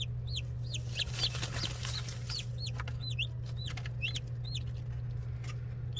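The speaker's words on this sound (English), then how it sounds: "there are 5 little chickens in the brooder bin currently" Swedish flower hen chicks peep steadily in a brooder bin, their high, rapid cheeps overlapping close by over a constant low electrical hum.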